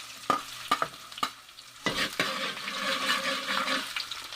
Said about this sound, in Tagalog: mainit na yung ating mantika sa kwali. Igisa na tayo ng bawang.